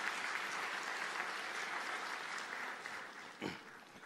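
Sustained, dense applause from a large audience at a Kangnam University degree-conferment ceremony, steady and loud throughout with a brief louder burst near the end.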